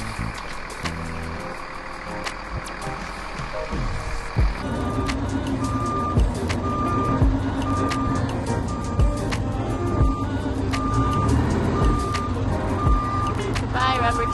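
A bus pulls away with its engine rumbling steadily, while a reversing alarm repeats evenly spaced beeps for several seconds, fairly close and loud.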